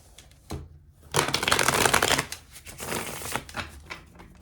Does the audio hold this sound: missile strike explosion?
no